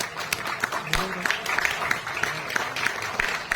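An audience at a religious discourse claps in a loose rhythm, with sharp individual claps repeating close by under a speaker's voice.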